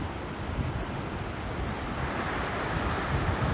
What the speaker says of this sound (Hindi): ये नूरी शाम का झरना, और इधर से पानी देखो